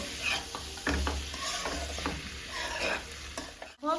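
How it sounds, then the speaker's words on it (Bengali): Spice masala with tomatoes and spring onions is stirred and fried in a pan for rui fish curry. Close, continuous sizzling runs under a series of scraping stir strokes, ending with a brief clatter, and no one speaks. "টমেটো দিয়ে দেবো মিক্স করে নেবো এবারে এটা এক মিনিট কষিয়ে নেব ভালো করে"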